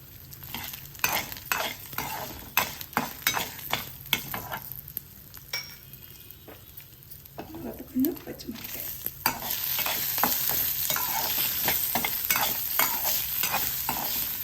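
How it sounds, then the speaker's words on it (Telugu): Dried red chillies and asafoetida sizzle in hot oil in a pan for a traditional tangy vakkaya pickle, with repeated scraping stirs of a spoon, steady close frying hiss swelling louder toward the end. "ఇప్పుడు ఎండు మిరపకాయలు వేసేస్తాం తర్వాత ఇంగువ"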